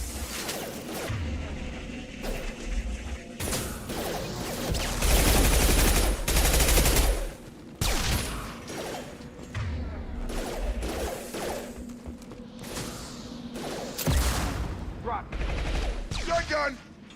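Rapid gunfire and shotgun blasts from Mass Effect 2 combat on Insanity difficulty, loud bursts repeating through the whole stretch, with a voice talking over parts of it.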